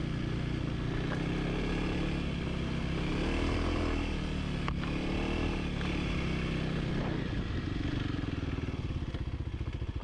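A dirt bike rides off-road trails at an ORV area, its engine droning steadily and close by throughout, with the pitch rising and falling as the rider works the throttle.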